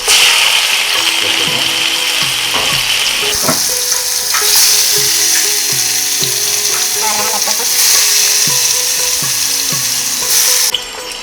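Marinated chicken pieces for pan alfaham sizzle loudly in hot oil in a pan, a steady dense frying hiss throughout with occasional clinks and scrapes, no voices.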